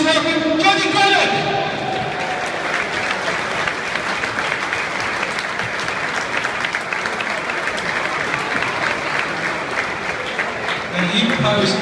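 A large stadium crowd at Wolves gives Ed Hewitt a long round of applause, dense steady clapping that stays loud and close for about twelve seconds with a few scattered cheers mixed in.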